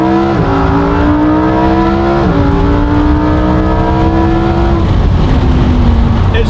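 Stock Lamborghini Huracan engine pulling hard, loud rising revs broken by quick upshifts, each shift dropping the pitch before it climbs again, close and with no talk over it.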